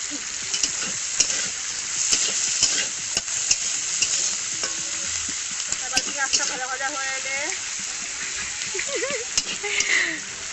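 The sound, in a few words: onions frying in mustard oil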